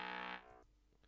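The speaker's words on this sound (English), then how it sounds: "that's that evil trombone." Evil trombone synth patch for a grime instrumental: one loud, buzzy, harmonic-rich brassy note held about half a second, then cut off, leaving a faint tail.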